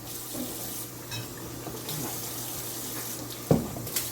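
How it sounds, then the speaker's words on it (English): Tap water runs steadily over the tops of food cans at a kitchen sink while supper is cooked, a constant rushing stream with a brief louder splash near the end. "I wash the top of my cans"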